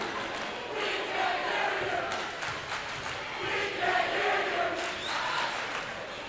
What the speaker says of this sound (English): The home crowd First personal foul. chanting flopper.